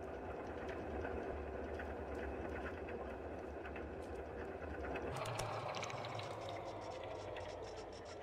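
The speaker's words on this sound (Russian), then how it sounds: "Каким-то макаром остановить этот злоебучий вентилятор." Ventilation fan running steadily in the video game Stray, a dense continuous mechanical whir and low rumble that fills the scene without pause, shifting slightly in tone partway through.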